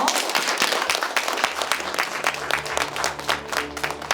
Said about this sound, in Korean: 유진이 너무너무 잘하고 있고 박수 한번 줄까요?